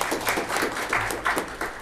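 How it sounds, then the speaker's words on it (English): An audience at a county board of commissioners work session claps for the tax commissioner, a short burst of moderately loud applause from a modest crowd, fairly even before tapering slightly. "Would you please stand and let's give her a round of applause."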